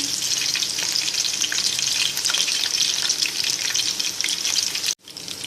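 Beef muthiya kebabs fry in oil over a low flame, giving a steady dense sizzle and crackle that carries on unbroken, close and even. It stops abruptly for a moment near the end, then resumes.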